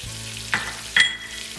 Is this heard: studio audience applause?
no